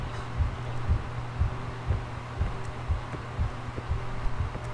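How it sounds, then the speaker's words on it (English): A heartbeat pulses in the horror video game Lunch Lady: soft, steady low thumps in paired beats roughly every half second, throbbing under a constant droning hum with faint scattered clicks. "Woke up hearing the heartbeats now"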